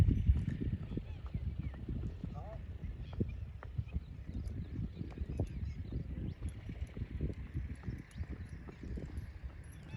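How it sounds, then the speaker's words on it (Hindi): Hoofbeats of a Sindhi horse moving fast in a single-foot gait, a quick even patter of clops heard faintly at a distance over outdoor background noise. "सिंधी घोड़े सेम चाल में बहुत स्पीड से चलते हैं।"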